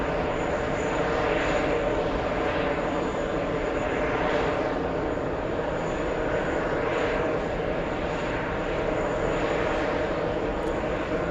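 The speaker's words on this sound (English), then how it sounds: "JetBlue A321 XLR, that one" A JetBlue Airbus A321XLR airliner taking off, a loud continuous engine roar that holds steady and fills the whole stretch, with no talking.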